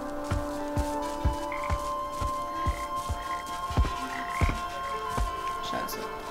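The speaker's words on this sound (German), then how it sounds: "Scheiße, ist hier ein Frosch." A frog in the video game Papo & Yo croaks in a steady repeating rhythm, each low throbbing croak sharp and evenly spaced over a constant humming game ambience.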